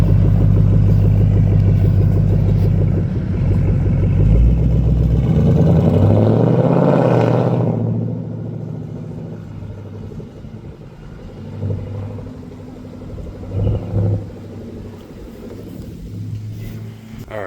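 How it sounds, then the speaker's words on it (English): A car being started cold after a new transmission and exhaust fit, loud deep engine rumble with a rising rev near the start that peaks and drops away, then a quieter idle with a few short blips of throttle. "Let's get this car started."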